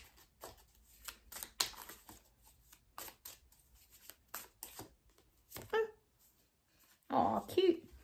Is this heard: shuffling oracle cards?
yes